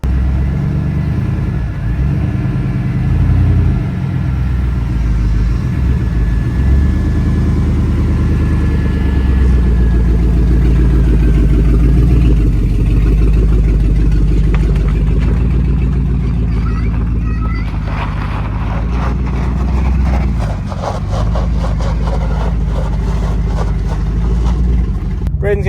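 A Drift Denali truck engine on an MSD two-step limiter, revving hard in loud, continuous bursts with a choppy, crackling stutter through the second half, while a voice talks over it.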